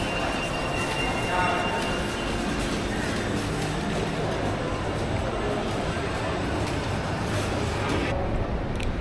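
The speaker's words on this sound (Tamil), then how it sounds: "இங்கே பார்த்தீங்களா குழந்தைங்க விளையாடுற ட்ரெயின்." Children's ride-on toy train at IKEA Dubai rolling steadily past in a busy indoor store, with continuous wheel rumble and a faint squeal under constant crowd noise.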